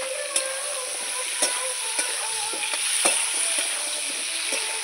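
Boiled chickpeas and tomato fry in a pan, giving a steady close sizzle with scattered pops and crackles throughout, no voices present.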